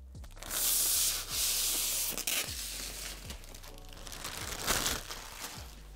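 A plastic sheet is peeled and pulled off carbon fiber trim on home theater seats, giving close crinkly, rasping bursts of tearing and rubbing with a few soft bumps, and no talk.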